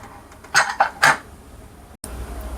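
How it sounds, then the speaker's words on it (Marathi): A pressure cooker of Maharashtrian coconut chicken curry, slightly cooled after two whistles, has its lid opened: a few sharp metal clanks and clatters in quick succession, then a quieter room tone. "कुकरच्या दोन शिट्ट्या झालेल्या आहेत झाकण उघडून बघूयात"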